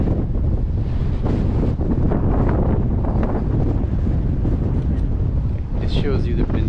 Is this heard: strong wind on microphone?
yes